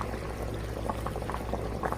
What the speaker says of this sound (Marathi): हे बघा ग्रेव्हीला चांगली उकळी आली आहे